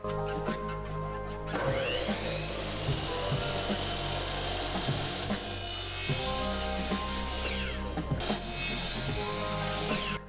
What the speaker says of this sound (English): we'll take that over to the chop saw, cut it to length for both Hyfax